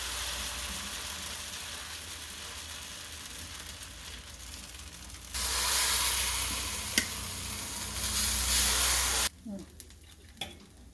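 Dosa batter hitting a hot pan with a couple of drops of oil, a low steady sizzle that jumps to a loud, hissing crackle for several seconds before cutting off sharply, ending with a few faint clicks.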